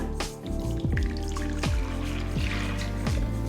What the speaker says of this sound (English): then pour into a large mixing bowl